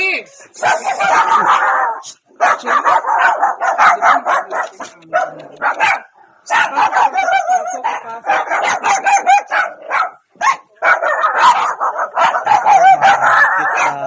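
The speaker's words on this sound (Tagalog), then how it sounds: "Mga tuta." Puppies barking and yipping in repeated bursts across the scene, fairly close, with people talking over and between the barks.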